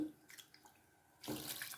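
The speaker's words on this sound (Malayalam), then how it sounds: "കുറച്ച് വെള്ളം കൂടി ആ മിക്സിൻ്റെ ജാറിൽ തന്നെ ഒഴിച്ചിട്ട്" Water is poured into a mixer grinder jar while making ripe mango pulissery in a kitchen: a faint, scattered trickle, then a louder, steady rushing splash over the last half second or so. No voices.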